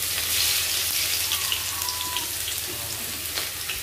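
Garlic and shallots frying in a hot pan, giving a steady, dense sizzle with faint crackles throughout and no talk over it.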